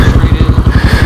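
Electric-start motorcycle engine idling close by, a loud, low, steady chugging pulse with a rapid even beat and a slight rattle on top.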